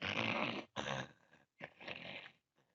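A voice imitates a patient's snoring with three rough, rasping snore sounds separated by short pauses, close and fairly loud, with no other speech.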